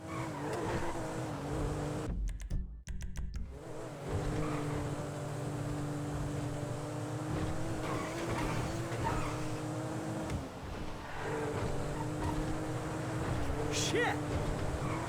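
A car in the video game GTA V drives with a steady engine drone and brief tire skids, while a voice talks over it throughout.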